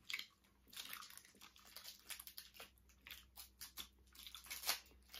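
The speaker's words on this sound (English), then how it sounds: "I'm going to just take a bite out of it." Someone bites and chews a sour sweet close to the microphone, giving faint, irregular crunches and soft squishy chewing sounds, quiet and without talk.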